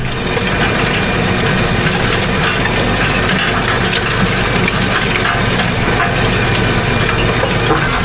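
A tractor engine working a grass field during a full reseed, its revs raised to cultivate into the ground, gives a loud, steady, close drone with mechanical rattle and no speech.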